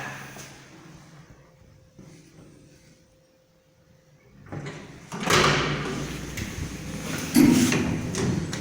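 An elevator car arrives at the ground floor of a building and its doors slide open: a quiet hum, then rising rumble and sliding clatter with a sharper knock near the end, moderately close.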